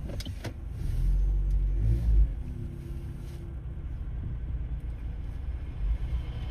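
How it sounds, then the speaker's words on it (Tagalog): Road traffic in Manchester heard from inside a car, with a low engine rumble and passing vehicle noise holding steady throughout, a brief mechanical whir near the start, and no talking. "Traffic."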